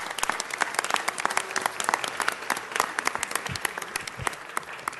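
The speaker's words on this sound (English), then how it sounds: "Give her a round of applause." Audience applause at a city council meeting, a dense, steady patter of many hands clapping for about five seconds, fairly close and sustained without speech over it.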